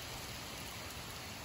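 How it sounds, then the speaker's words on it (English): Rain falls steadily as a dense, even hiss with no breaks, moderately quiet, and no voices or other sounds stand out. "it is raining. Like a little hard, but like not as hard."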